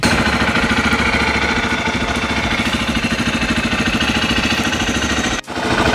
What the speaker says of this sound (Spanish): Ahora le vamos a dar el encendido, hace el check-in y le vamos a dar